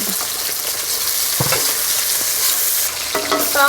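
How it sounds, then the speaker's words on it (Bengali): Chopped onion and green chillies sizzle steadily in hot oil left over from frying potatoes, with a few sharp utensil clinks and scrapes against the pan rising over the continuous hiss. "আলু ভাজার গরম তেলে পেঁয়াজ কুচি দিয়ে দিচ্ছি কটা কাঁচা লঙ্কা কুচি"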